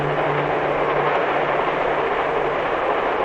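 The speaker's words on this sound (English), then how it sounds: "And sometimes the train goes through the mountain itself, through a tunnel." A passenger train travels through mountain country with a steady, continuous rolling rumble that holds at an even loudness throughout, with no voices.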